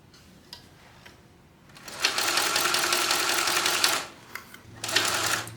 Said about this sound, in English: now we're going to sew this together at 3/8 of an inch seam allowance.